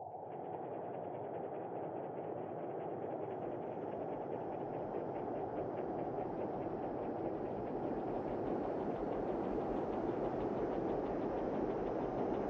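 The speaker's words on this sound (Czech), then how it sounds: "Další zvukový kontakt, to jsou válečné lodě." A steady, dense mechanical drone with a fast repetitive churning beat, warship engines and propellers at high revs heard on sonar in the video game Silent Hunter 4, unchanging throughout.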